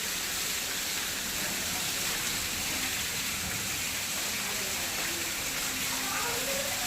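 Water pours out forcefully like a waterfall, a dense, unbroken rushing hiss that holds steady and close for the whole stretch.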